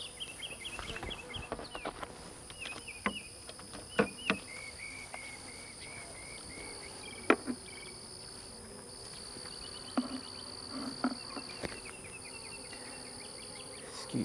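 Honeybees buzzing around an open hive, a soft continuous hum with individual bees whizzing close past in brief louder swells, plus occasional clicks of frames being handled.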